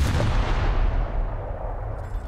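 Ship guns firing in a naval combat video game, a deep booming salvo with a rumbling tail that fades over about two seconds.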